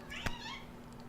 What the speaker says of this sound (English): That was my cat, Ellie. She wanted to say hi to the fans.